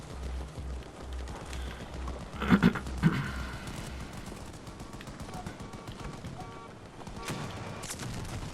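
Battlefield 2042 video game combat with bursts of gunfire and a couple of sharper explosion-like blasts around the middle, over a busy rumbling battle backdrop, moderately loud and continuous.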